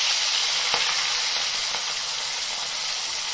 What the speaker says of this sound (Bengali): আর মাছগুলো দিয়ে ভেজে নেব।